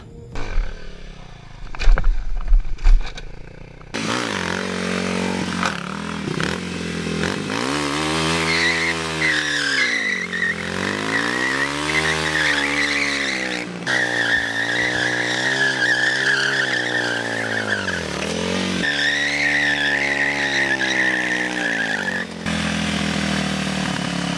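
A Honda CBR motorcycle slides around in circles on loose dirt, its engine revving in long rising and falling sweeps close by, with the tires scrabbling and skidding across the ground throughout.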